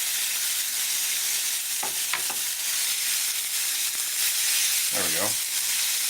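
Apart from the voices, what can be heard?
fajita pieces sizzling in the pan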